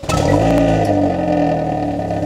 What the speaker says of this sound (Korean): 이게 일반 컴포트 모드 배기음이고요.